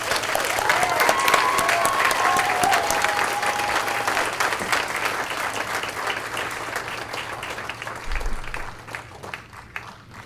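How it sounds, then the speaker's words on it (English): A crowd applauds warmly at the 2015 Montgomery County BHDD awards luncheon, with steady dense clapping that lasts the full stretch and slowly thins out toward the end. "If we could give Jess a round of applause."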